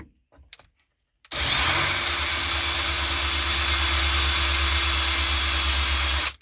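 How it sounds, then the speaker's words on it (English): A drill bit bores into raised metal on a classic Ford LTD power door lock part, starting abruptly after brief faint sounds and running as a loud, continuous high-pitched grinding whine for about five seconds. "So let me grab a drill bit and see what we get."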